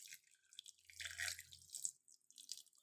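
Whey draining from curdled milk split with lemon juice while making sweets, soft close dripping and trickling in quiet bursts with no talk.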